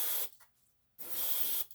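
Aerosol spray can hissing in two short bursts for rust weathering on a model, with a brief silent gap between them.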